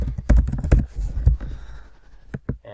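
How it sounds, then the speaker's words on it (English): Quick, uneven bursts of close keystrokes on a computer keyboard, a flurry of taps that thins out toward the end, with no talking. "This is if you just want to be able to type something."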